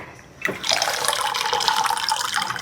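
Water poured steadily into a container at home, a close, continuous splashing stream that starts abruptly and runs on without talk.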